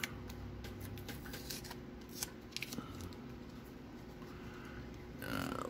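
Bowman baseball cards are handled close up: a continuous run of soft sliding and flicking rustles with a few crisp snaps, fairly quiet and without speech.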